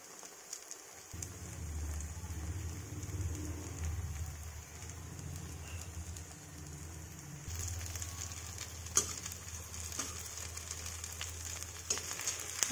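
Kulth dal faanu cooks over a high flame, giving a continuous crackling sizzle like light rain, steady and close with a low hum beneath.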